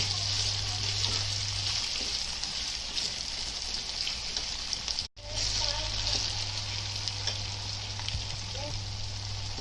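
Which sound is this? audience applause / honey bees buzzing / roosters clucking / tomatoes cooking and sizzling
tomatoes cooking and sizzling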